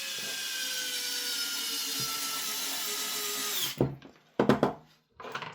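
An electric screwdriver whirs steadily for several seconds while driving a T10 screw into an airsoft MP9 lower, then stops, followed by a few short clicks and handling knocks.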